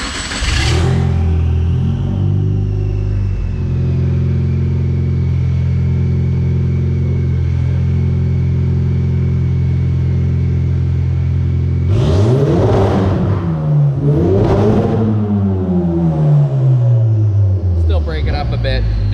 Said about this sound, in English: All right, let's see if it free rev's good.